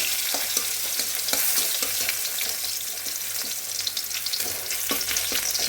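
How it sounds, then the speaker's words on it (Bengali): Bay leaf, dried red chilli and crushed ginger fry in hot oil in a pan, making a steady, close sizzle with light crackles and soft stirring taps. "তেজপাতা, একটু আদা থেতো করে দিলাম"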